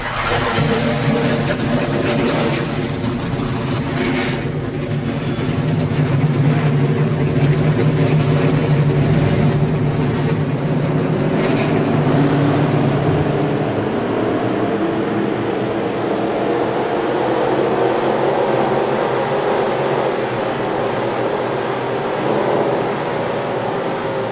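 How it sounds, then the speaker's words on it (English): Race car engines in NASCAR Racing 2003 at Martinsville Speedway, a dense sustained mechanical drone with a steady low hum that swells and shifts in pitch midway, loud and continuous throughout with no talk. "Drivers, start your engines!"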